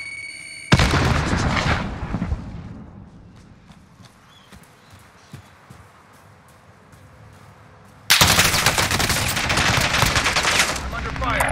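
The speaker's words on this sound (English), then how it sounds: "Throwing out a grenade." A Call of Duty Warzone grenade explosion: a sudden loud blast that drops into a quieter stretch of scattered battlefield sounds, then a second loud, sustained burst of noise, with some voice chatter faintly present.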